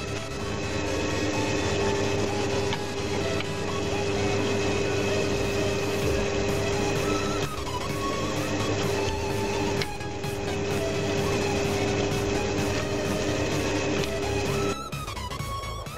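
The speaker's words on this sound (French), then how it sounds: "On perce." An electric drill bores into wood for a homemade wooden beer advent calendar, giving a steady loud motor whine that shifts pitch briefly as the bit bites and eases, running almost without pause.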